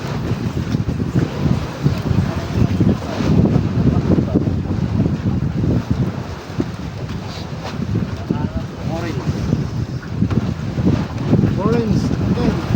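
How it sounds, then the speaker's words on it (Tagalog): Strong wind roars and buffets the microphone continuously, with a low rumble throughout and faint voices talking in the background. "Malakas daw hangin."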